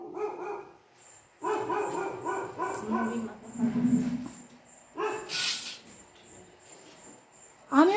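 Several dogs bark in short bursts and yips at a rural home, loud and close in clusters through the clip, with a person's voice speaking in between.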